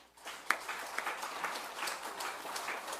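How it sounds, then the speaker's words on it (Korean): Church congregation at a Thanksgiving Sunday worship service giving applause to God, a fairly soft, diffuse patter of many hands clapping at moderate distance, with a few sharper individual claps standing out early on. "우리 하나님께 영광의 박수를 드립시다."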